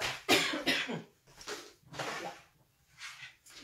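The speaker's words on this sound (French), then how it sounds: "ne vous inquiétez pas si vous m'entendez tousser" Several harsh coughs in quick succession, close and fairly loud, with short pauses between bursts and a softer cough toward the end.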